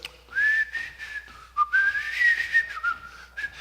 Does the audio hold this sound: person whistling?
yes